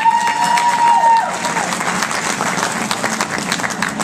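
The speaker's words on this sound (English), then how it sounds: "So let's give those guys a round of applause." An audience at the Miss I-500 2012 pageant gives loud, sustained applause with a little cheering, and a thin steady tone rings over the clapping for the first second or so.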